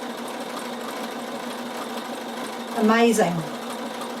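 Bernina sewing machine running steadily as it stitches wool applique, a continuous mechanical whir throughout with a brief louder burst near the end as a voice speaks a single word over it.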